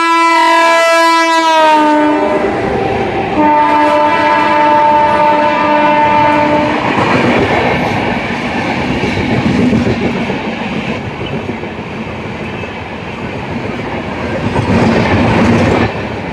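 A new-coach Narasapur to Varanasi passenger train sounds a long, loud, close horn blast, then rumbles past with continuous wheel clatter and rolling noise.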